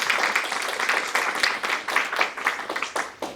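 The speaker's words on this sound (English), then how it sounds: "Let's give them one more round of applause and welcome." Audience at a communications and issues advocacy panel applauding the panelists, a steady wash of many hands clapping close and loud throughout, with no talk over it.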